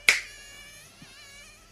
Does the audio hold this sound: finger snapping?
yes